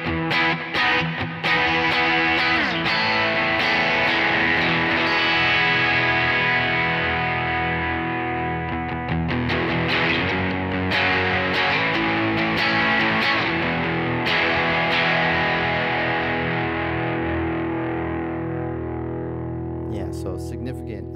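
An electric guitar runs through a Pettyjohn ROUS pedal switched to fire mode, giving a loud high-gain distorted tone with sustained chords and riffs that ring out and decay, played alone with no talk.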